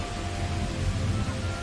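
Faint steady rain hiss in the video game For the King II, a soft continuous wash of noise without voices.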